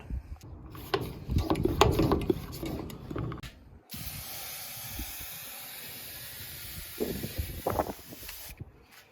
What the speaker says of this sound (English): So we are going to go ahead and spritz this down